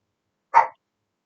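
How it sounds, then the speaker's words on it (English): A dog gives a single short bark, close and isolated against silence. "That's my dog."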